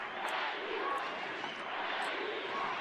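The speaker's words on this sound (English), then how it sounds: "Listen to this home crowd just getting behind Os Tupis, the Brazilian national team" Home crowd at a 2018 Americas Rugby Championship match between Brazil and Uruguay roars steadily for the Brazilian team, Os Tupis, a dense, continuous wash of cheering with no break across the whole stretch.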